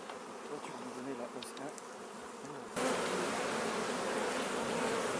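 Honey bees buzz at an open hive colony in a dense, continuous drone that grows noticeably louder and fuller about halfway through.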